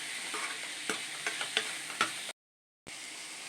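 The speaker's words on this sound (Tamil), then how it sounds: "இதையும் சேர்த்து நல்லா வதக்கிக்கலாம்" Chopped tomatoes with ginger and garlic are sautéed in a pan for a chicken kulambu, making a continuous hissing fry broken by light ladle taps, then a brief silence before the sizzle resumes.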